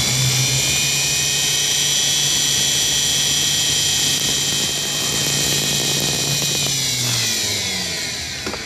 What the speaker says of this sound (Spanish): Lleva una broca muy finita ahí, y tenemos aquí donde apoyar. Entonces en el pie tengo el control del motor.